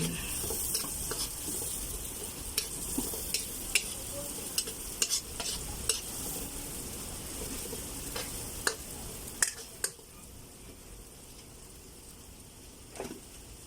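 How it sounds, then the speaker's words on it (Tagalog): Onion and garlic sautéing in butter in a home kitchen, a continuous sizzle broken by repeated sharp spatula scrapes and clacks against the pan, close by. "nagsisimula tayo magisa ng ano, butter tsaka ng sibuyas bawang"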